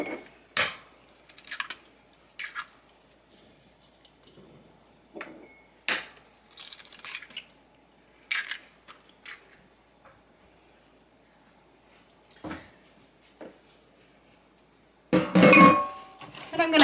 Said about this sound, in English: we're going to crack our 2 eggs in there